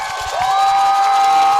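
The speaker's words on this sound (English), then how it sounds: "You can hear this East Central crowd coming alive." An East Central high school football crowd roars in a stadium, a broad cheer carrying a sustained whistle-like tone over it.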